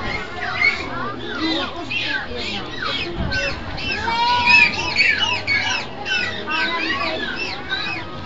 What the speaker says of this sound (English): they also use the blowhole at the top using a variety of sounds like click, squeak, squawks, and whistles